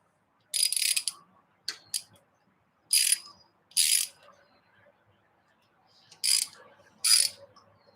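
A ratchet clicks in short close bursts while tightening buggy engine bolts in a crisscross pattern, six or so separate rapid rattling pulls with quiet pauses between them.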